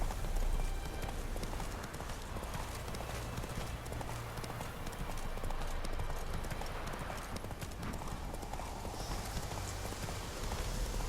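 In The Witcher 3, a horse gallops with a steady, continuous clip-clop of hooves, moderately loud and close, over a soft ambient game background.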